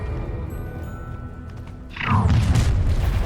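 A Confringo blast spell goes off in the Hogwarts Legacy video game during a fight with an Ashwinder, one loud booming explosion that bursts in midway over a steady game background.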